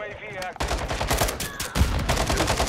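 Rapid gunfire rattles from Call of Duty: Modern Warfare II gameplay, dense bursts of loud close shots after a brief quieter opening, with some game voice sounds mixed in.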